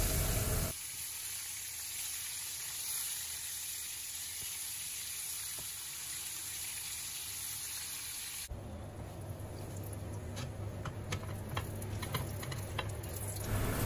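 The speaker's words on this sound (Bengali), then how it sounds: "যেহেতু চুলার আঁচটাকে মিডিয়ামে রেখেছি আর ঢেকে দেইনি, তাই একটু সময় নিয়ে পটলগুলোকে ভেজে নিতে হবে।" Pointed gourd (potol) slices fry in oil in an uncovered pan on medium heat, a steady close sizzle that turns busier and crackly partway through, with quick ticking pops.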